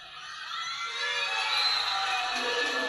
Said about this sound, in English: the crowd goes wild here in the Adamson University Gym